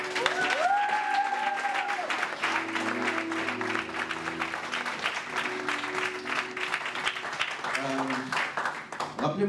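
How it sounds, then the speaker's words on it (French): Church congregation applauding warmly and continuously during an evangelical service, the clapping steady and dense while a voice and sustained music tones play underneath. "j'aimerais que pendant que lui et son épouse se lèvent, qu'on acclame le Seigneur pour leur vie"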